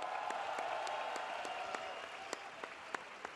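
An audience at a French festival stage show applauds Pauline Rapilly-Ferniaud. The clapping is fairly soft and distant, with steady crowd claps and a few sharper individual claps standing out near the end.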